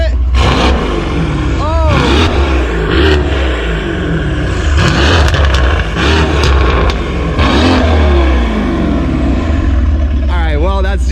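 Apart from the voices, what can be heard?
Mercedes C63 AMG engine revving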